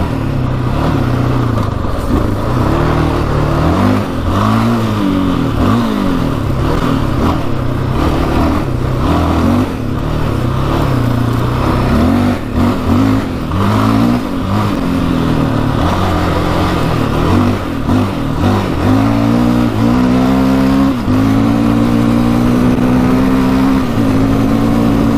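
A 700cc quad ATV engine revs hard and accelerates, its pitch climbing and dropping through gear changes, loud and close for the whole stretch with no talk over it.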